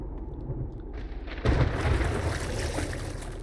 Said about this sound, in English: We got an active storm.